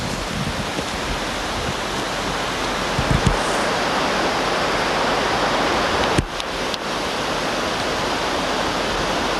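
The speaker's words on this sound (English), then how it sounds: "See the river coming down through there." A river rushes far below a high vista at Mt. St. Helens, a steady broadband roar of flowing water that fills the whole stretch, with a couple of brief knocks and handling bumps near the microphone.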